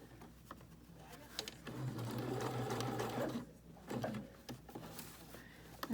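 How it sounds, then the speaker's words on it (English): A home sewing machine stitching fabric for a fitted face mask, running in a steady quiet whir with brief pauses and restarts, close by in a calm room. "I'm just going to come back and I'm just going to back stitch."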